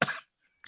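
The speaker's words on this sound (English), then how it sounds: "there's my cough." A single sharp cough bursts out close to the microphone, followed after a short pause by a small throat-clearing rasp.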